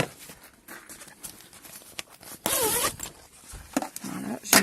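A zipper is pulled open on a pet protective car seat cover, a brief close rasping zip after some quiet fabric handling and light rustles.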